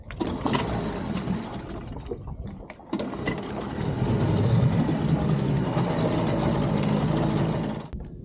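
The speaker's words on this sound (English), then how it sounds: "Make sure this engine's running properly. I love it when it starts the first go." A sailboat's stiff inboard engine cranks, catches on the first try and settles into a loud, steady, rumbling idle close by, with watery churning mixed in.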